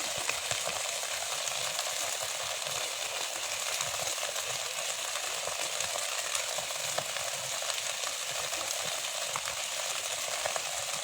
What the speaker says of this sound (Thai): ไฟจึงลุกเป็น วงกว้าง นะครับ เพราะ มันเป็นป่าหญ้านะ